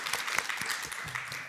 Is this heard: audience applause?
yes